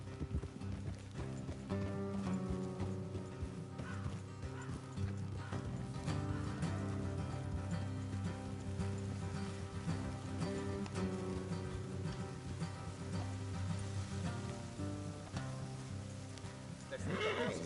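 Horses in the Red Dead Redemption 2 video game clip-clop along a road, the hoofbeats steady under dialogue and game music, with a neigh or whinny rising in the mix.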